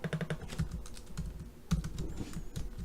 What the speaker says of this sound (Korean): 쿠키라고 입력을 해주고